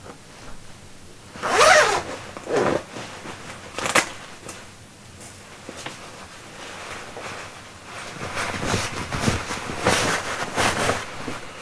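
A zipper on a woodturning jacket meant to keep wood shavings off clothes is pulled up in several close, rasping strokes of varying length, with no talk.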